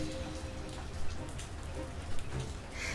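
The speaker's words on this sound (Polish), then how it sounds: "Dziś pogoda nie jest zbyt sprzyjająca. Pada deszcz." Steady rain falls on a Paris street, a dense, even patter on the pavement with a few louder drops and splashes standing out, heard alone with no voices.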